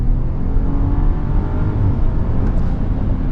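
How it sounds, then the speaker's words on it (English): A 2026 Ram 1500 Limited pickup with an inline-six engine accelerating, giving a loud, steady engine roar with road noise that holds close and constant throughout. "Inline sixes, you cannot beat them when it comes to acceleration."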